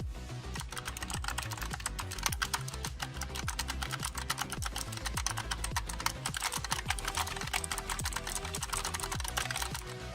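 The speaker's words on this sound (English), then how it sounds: "So let's go ahead and do the keyboard test." Fast, continuous typing on an EVGA Z20 optical mechanical gaming keyboard with clicky switches, a dense close-up clatter of crisp key clicks and bottom-out thocks with no voices.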